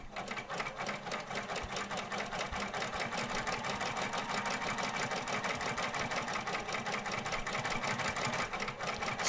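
A sewing machine stitches through jeans fabric in a fast, even chatter of needle strokes, close and steady throughout with no talk.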